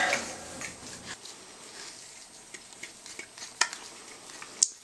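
Small stirring and scraping clicks come from a tool mixing a few drops of two-part adhesive on a hard surface. The sounds are faint, close and irregular, with a few sharper taps, and no one speaks.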